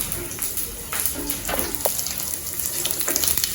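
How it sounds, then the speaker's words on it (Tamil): Urad dal and dried red chillies fry in hot oil for lemon rice, a steady broadband sizzle with a few scrape-like bursts from stirring, close and continuous throughout. "இது நல்லா பொரியட்டும் லேசாக இல்லைனா மறுப்பாக வறுபடணும்"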